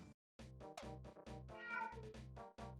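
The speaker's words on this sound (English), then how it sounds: "The cat is most likely cheering for me to be done commentating" A cat meowing indoors, a rapid run of several distinct, fairly loud meows in quick succession after a brief silence, one stretching into a longer, wavering cry.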